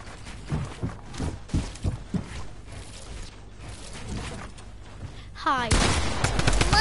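Video game gunfire, a run of sharp shots in an uneven rhythm under casual player chatter, followed near the end by a loud burst of louder, echoing sounds.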